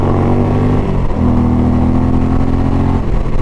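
A 2020 Indian Challenger motorcycle ridden on a highway, its big engine holding a steady, loud, low droning rumble with a brief dip and then a rising pull as it accelerates, no talk over it.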